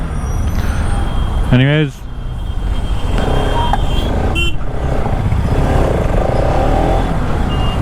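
Road traffic jam of cars and trucks heard from a motorbike, a continuous engine rumble with a brief rising horn-like chirp, while a person talks over it.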